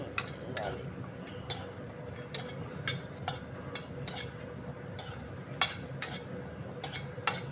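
Jackfruit pieces fry in a pan while being stirred, with a faint sizzle beneath frequent sharp scraping and clinking of the spoon against the pan.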